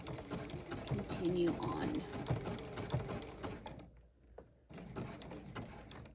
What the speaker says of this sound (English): Hand crank a couple of stitches.